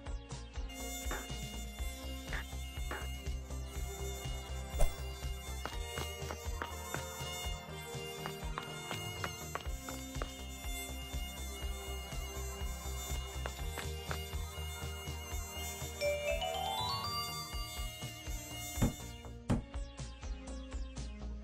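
Cartoon mosquitoes make a steady, layered insect buzz that holds loudly throughout, mixed with bright tonal sweeps and music-like accents.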